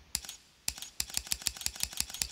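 Computer keyboard keys and mouse buttons clicking during PC play, a sparse few taps followed by a quick, steady run of crisp clicks, close and alone.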